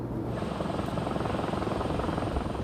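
A small Robinson helicopter carrying an attached receiver in flight, its rotor and engine giving a loud, steady, close whirring roar throughout with no talk.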